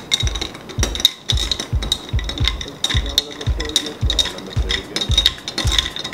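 A spoon stirs a tequila sunrise cocktail in a glass, giving a quick, regular series of close clinks and knocks that keeps going throughout.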